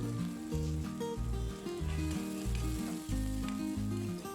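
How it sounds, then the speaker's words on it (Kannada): Chopped onions sizzle steadily in a hot frying pan, a continuous close frying hiss running beneath prominent background music throughout. "ಇವಾಗ ಈರುಳ್ಳಿನ ಹಾಕ್ತಾಯಿದ್ದೀನಿ"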